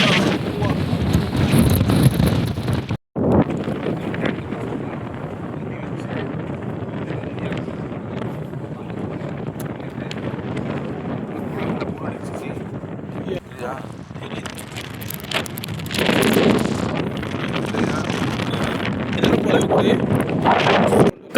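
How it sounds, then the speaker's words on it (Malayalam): Strong desert wind in rural Rajasthan buffets the microphone with a steady, loud roar and gusty rumble that swells near the end, with a brief dropout early on. "കാറ്റടിക്കുന്ന കാര്യം ഞാൻ ലൈവിൽ സംസാരിച്ചാൽ കേൾക്കണ്ടാവില്ല"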